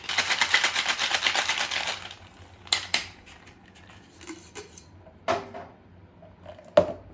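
A cocktail shaker filled with lime juice and ice rattles rapidly for about two seconds in a dense, rhythmic burst, followed by a few sharp clinks and taps as it is set down and opened.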